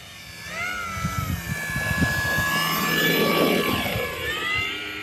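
An FMS Maule 1500mm RC model airplane flies overhead, its electric motor and propeller giving a steady whining drone with rising and falling pitch sweeps, loud and continuous throughout with low wind rumble beneath.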